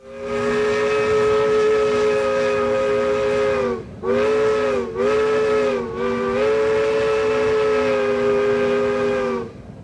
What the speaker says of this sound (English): The train from Chama usually arrives first, winding its way along the mountainside before curving into the ghost town.